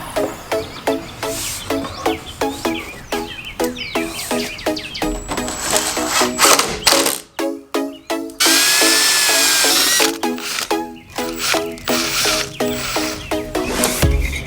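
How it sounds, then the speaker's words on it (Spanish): A power drill drives screws into an RV skirt panel, with repeated short whirring bursts in a rapid rhythm, close and loud, and a sustained higher run partway through, with no speech. "Primero con unos tornillos, la aguantamos y después ponemos remache."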